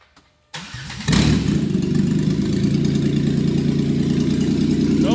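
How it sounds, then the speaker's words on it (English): A Jeep 3.8 engine with its exhaust disconnected cranks briefly, then fires up and settles into a loud, raw, rumbling idle, close and alone. "I've got catalytic converters coming for this, so the exhaust isn't hooked up, but we're gonna do a start just for giggles."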